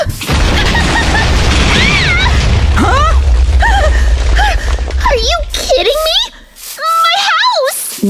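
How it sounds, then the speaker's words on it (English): A Minecraft explosion booms out in a loud, low rumbling burst beneath excited children's voices, with a cartoonish character voice chattering over the blast as it fades. "It's gonna explode!"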